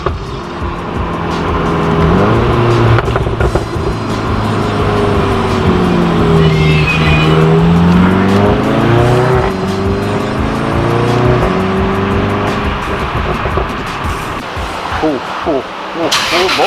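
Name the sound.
Volkswagen Golf R driving on a back road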